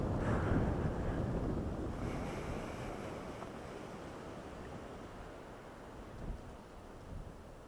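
Strong wind roars and buffets steadily at Evans Notch, rumbling low and gusting, with no voices.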